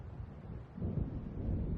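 Low rolling thunder from an approaching storm in the video game Alan Wake, a dull rumble that swells louder partway through and keeps booming.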